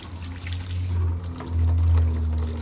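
Water pours into a rabbit's water bowl, a steady close stream with a louder surge near the end, heard alone without talk.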